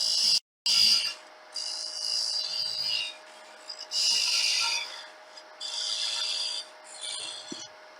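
A wood turning blank rotates by hand on a lathe, giving intermittent soft rasping and rubbing bursts separated by brief pauses, quiet and close.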